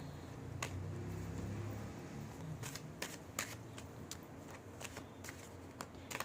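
Tarot cards being shuffled by hand during a reading, a run of soft riffling followed by sharp, quick card slaps and flicks, close and quiet, with no talking.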